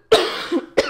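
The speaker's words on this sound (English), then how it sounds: "Sorry with the coughing." A woman coughs close to the microphone: one sharp cough trailing into a rough exhale, a smaller throaty catch, then a second sharp cough.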